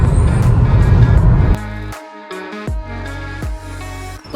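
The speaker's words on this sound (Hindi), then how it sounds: "मुझे गाड़ी चलाने पे फोकस करने दें" A car on a long road trip from Germany toward Croatia: steady loud road and engine rumble that drops to quieter cabin hum with a few sharp clicks and bumps, no talking.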